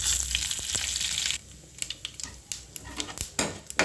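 Tempering spices and dry red chillies fry in hot oil: a loud, dense sizzle up close for over a second, then it drops to scattered crackles and pops.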